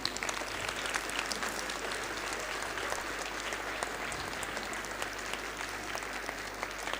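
A hall full of children keeps up sustained applause for their teachers at a school felicitation ceremony, an even, dense wash of clapping throughout.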